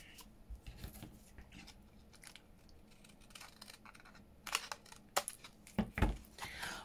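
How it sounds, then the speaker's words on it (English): Scissors cut through card packaging paper, soft snips and rasping slices close by and quiet, growing sharper and more distinct in a few crisp cuts toward the end. "I think they're just going to want a little bit cut off."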